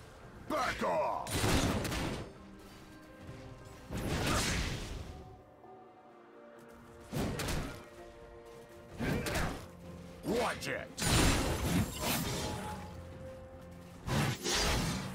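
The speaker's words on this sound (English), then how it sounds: "Blue team's turret has been destroyed." A turret being destroyed in League of Legends, a top-lane Darius versus Aatrox match, sounds as a series of loud smashing crashes and whooshing impact bursts. They come in clusters between brief lulls, with a voice speaking over the action.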